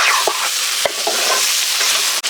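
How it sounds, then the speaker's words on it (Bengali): Eggs frying with spice masala in a pan, a loud close sizzle with a few sharp spatula scrapes and knocks. "এই মশলার সাথে ডিম কষিয়ে নেব।"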